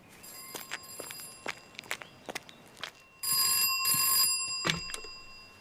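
An old telephone rings in a vicarage room, with short bell bursts among footsteps and shuffling, then one long, louder continuous ring.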